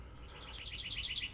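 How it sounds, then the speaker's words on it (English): An eastern towhee calls in a quiet outdoor spot, a faint series of quick, bright chirped notes repeating in a rapid rising sequence, heard alone. "And one of my favorite birds, the eastern towhee."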